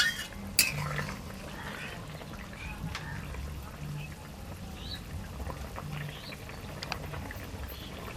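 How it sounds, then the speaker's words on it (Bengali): A rohu fish curry with potato, eggplant and bori simmers in a pan while being stirred, giving a steady bubbling hiss with occasional soft clinks of the spoon throughout. "এবার একটু নেড়ে দেব, আর হালকা ফুটলে নামিয়ে নেব।"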